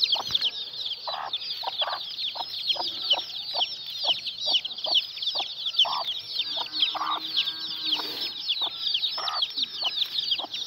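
Chickens and chicks in a yard cluck in short, repeated bursts over a constant high chirping of chicks, close and lively throughout, with no talking.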